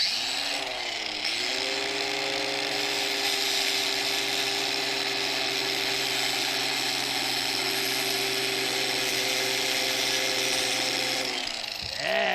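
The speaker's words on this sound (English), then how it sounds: "I'm gonna be running this grinder across these bolts" A grinder runs steadily against metal bolts, a loud continuous whine with a slight pitch dip near the start and again just before the end, without any talk.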